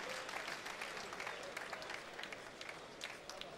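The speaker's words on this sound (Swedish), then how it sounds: "fått tillbaka härliga applåder" Boxing arena crowd applauding after a heavyweight bout, a steady wash of many hands clapping at moderate distance, sustained throughout without pauses.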